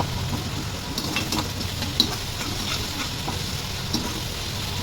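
Onions sauté in a pan over a quick gas flame, a steady broad sizzle and fry hiss running throughout with occasional faint clinks of a stirring spoon.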